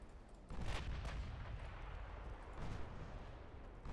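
Heavy booms from battleship main guns firing in a video game: a loud blast, then a second burst a couple of seconds later, each trailing off in a rumbling roar.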